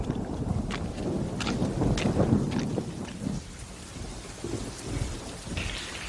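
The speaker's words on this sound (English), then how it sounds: "Rain." Heavy rain falls on a Roman city in a cartoon scene, a loud continuous patter with rumbling thunder-like swells early on that ease into a softer steady shower, no talking.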